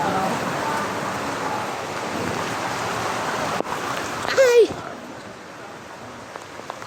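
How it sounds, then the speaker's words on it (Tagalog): Heavy rain pours as a steady, loud hiss for most of the stretch, and a voice gives a short exclamation near the end as the downpour fades lower. "Lakas ng ulan."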